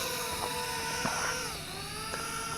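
Folding C-me GPS selfie drone lifting off outdoors, a steady high-pitched motor whine with shifting pitch, fairly loud and close, no talk.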